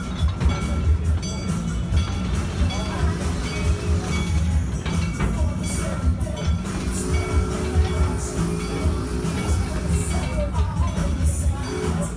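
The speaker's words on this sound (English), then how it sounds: "I also took a little video of the train ride" A train ride with a continuous close rumble and clatter of wheels on track, murmuring voices and a busy background running steadily under it.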